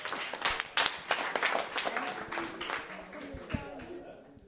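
A studio audience claps for a young footballer on a youth sports show, a short burst of scattered hands with voices mixed in over it.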